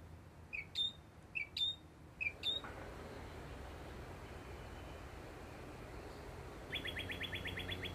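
Tiny migrating songbirds give three quick high chirps in a spring live oak woodland on an island, then a faint rapid trilling series follows later over a steady low background hiss.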